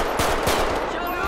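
Pistol gunfire in the video game GTA 5 during a SWAT-style police mission, a few sharp shots in quick succession, loud and close over a busy game background.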